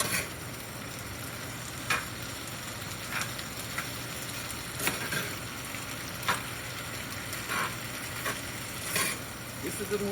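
Hushpuppies fry in hot oil with a constant crackling sizzle, punctuated every second or two by the clack of a utensil stirring them in the pot.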